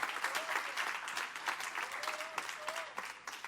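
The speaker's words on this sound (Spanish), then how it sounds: "Den un aplauso fuerte al Señor." A church congregation bursts into loud, sustained applause, many hands clapping steadily throughout, with a few voices calling out over the clapping.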